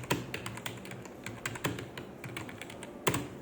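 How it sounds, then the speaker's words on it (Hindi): Rapid typing on a computer keyboard during an English typing test, with a close, continuous patter of key clicks and a few sharper, louder keystrokes. "तो ये इंग्लिश की टाइपिंग हो गई।"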